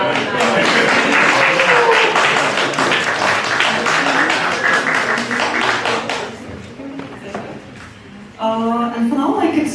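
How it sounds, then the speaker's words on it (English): Loud, dense audience applause at a hackathon's closing event in Zurich, sustained clapping with cheers and voices mixed in, thinning briefly before a burst of talk and renewed clapping near the end. "big applause for all of you"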